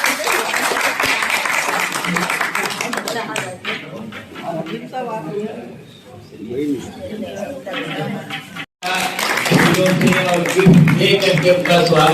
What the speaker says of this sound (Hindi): इसके साथ जोरदार तालियों से उनका स्वागत किया